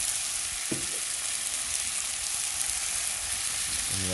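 Saltfish sizzles steadily in a hot pan, a dense continuous crackle that stays loud throughout, with a brief scrape of stirring near the start and a clink toward the end.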